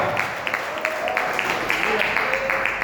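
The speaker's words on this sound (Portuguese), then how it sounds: "pode aplaudir bem forte ao Senhor" A church congregation applauding strongly, dense rhythmic clapping of many hands heard at a moderate distance, with a voice speaking over it.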